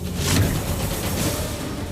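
A car drives along with a continuous low engine and road rumble, steady and fairly close, with no voices over it.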